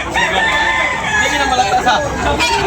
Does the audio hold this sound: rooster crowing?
yes